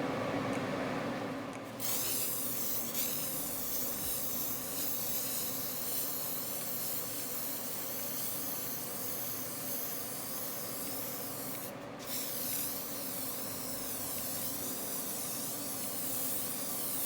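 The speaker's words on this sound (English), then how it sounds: "now I'm going to get everything ready to start spraying my paint." Rust-Oleum Universal Metallic spray paint in antique brass being sprayed onto hardware in a garage, a loud continuous hiss running throughout with brief sharper bursts near the start and around the middle, no talking.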